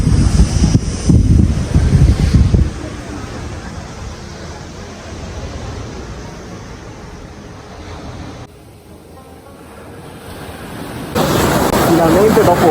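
Atlantic surf rolls onto a beach on the Algarve coast of Portugal in a steady loud wash, buffeted by heavy wind noise on the microphone, with a brief quieter lull before the roar swells again.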